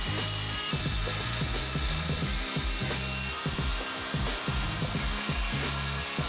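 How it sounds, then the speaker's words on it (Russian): A power drill fitted with a sanding attachment works over carved wooden parts, giving a steady high whine with a rough, chattering grind pulsing underneath, continuous and close. "Уже готовые части доводятся до идеала с помощью насадки на дрель. Она прошлифует весь сложный рельеф."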